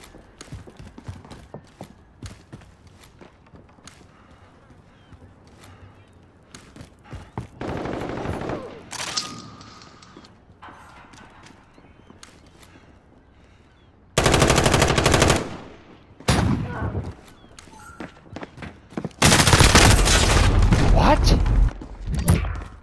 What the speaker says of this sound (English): let me pull out a shotgun then